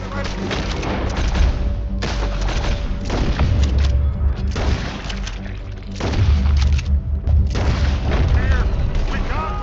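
Gunfire and booming blasts during a Red Dead Redemption 2 story mission shootout, dense and continuous across the clip with heavy low-end bursts, mixed with game voices shouting.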